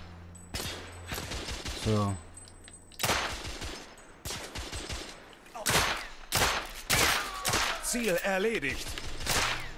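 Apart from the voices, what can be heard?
gunfire in video game The Order 1886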